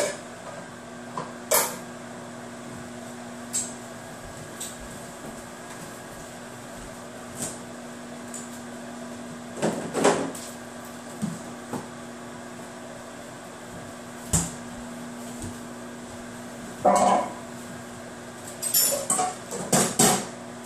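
Kitchen cleanup with scattered clinks and knocks of dishes and cupboard doors being handled, heard over a steady appliance hum. Clusters of clatter come at irregular moments.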